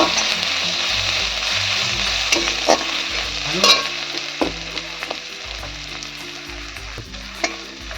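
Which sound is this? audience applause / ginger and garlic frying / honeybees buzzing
ginger and garlic frying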